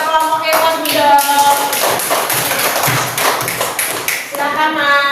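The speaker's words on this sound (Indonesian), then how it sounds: "Beri tepuk tangan buat kelompok EVOS Bendo." Applause in a classroom for a student group, scattered hand claps tapping through the middle section with harmonic-rich voices talking before and after.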